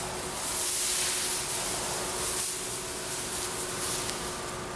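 Primer being spray painted onto a Nissan 240SX, a steady close hiss that swells and sustains for several seconds with slight pulses, no talking.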